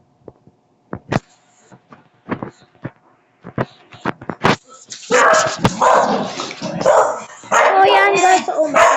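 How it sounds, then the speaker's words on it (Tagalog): A dog barks sharply in scattered bursts, close and loud, then a person talks over the barking toward the end. "Sobrang ingay ng aso"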